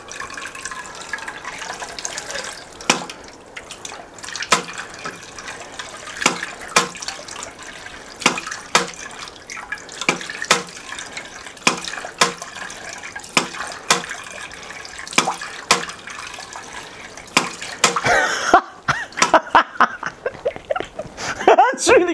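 Water runs and splashes into a homemade water motor, a continuous watery rush broken by repeated sharp splashes or clacks, loud and close, with voices talking over it.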